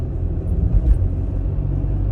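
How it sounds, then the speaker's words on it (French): A Volkswagen Up! 1.0 with 60 hp accelerates on a straight road, its engine a loud, steady low rumble with road noise heard from inside the cabin. "Donc c'est parti, j'accélère."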